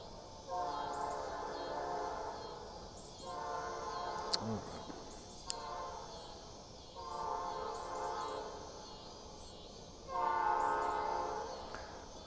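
Train passing in rural Indiana at dusk, its horn sounding in several long, moderately distant blasts separated by quieter gaps, with faint insects and a couple of sharp clicks between.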